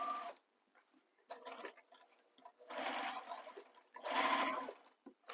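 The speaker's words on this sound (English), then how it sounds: "I'm going to stitch back over where those handles are just for some extra security." A sewing machine back-stitches over the handles of a fabric bag, running in several close, busy bursts separated by short pauses.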